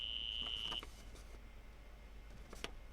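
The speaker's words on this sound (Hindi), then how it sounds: "ये क्या सैम? अलार्म है क्या?" A system alarm gives out a steady high electronic beep that holds for almost a second, then cuts off, with one short faint chirp following a moment later in a quiet room.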